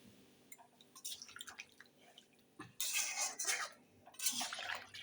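Water poured into a pan of pumpkin curry, a close splashing gush that starts softly, swells into loud bursts in the second half, then tapers, with a faint clink of the pan.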